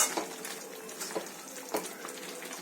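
Gongura chicken being mixed with coriander powder in a pan: a soft continuous sizzle with several spoon scrapes and light knocks against the pan, fairly quiet.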